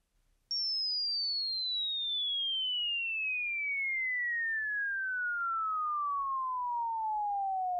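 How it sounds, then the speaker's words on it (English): A lone synthesized sine tone glides steadily downward in pitch for about seven seconds, clean and fairly loud, used as a psytrance atmosphere layer. "the main idea of this sound, to be honest, is just a sine wave pitching down over time"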